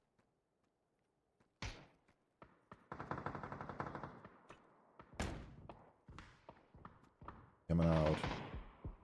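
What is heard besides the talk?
gunfire in a battle royale video game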